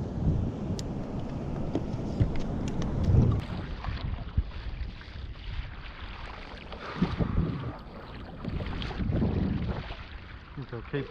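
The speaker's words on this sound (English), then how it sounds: "Keep paddling up and down here a couple more times before I head in." Paddling a kayak on coastal water during a summer snapper fishing trip, with low, continuous splashing and wash under steady wind noise, no talk.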